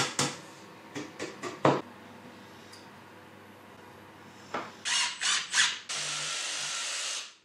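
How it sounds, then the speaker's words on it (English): Power tool notching an 18mm plywood scrap, several short sharp bursts followed by a sustained loud cutting whine near the end, close and isolated without talk. "I found a scrap of 18mm plywood, and I'll cut some notches out so that I can fit it in between the two rails."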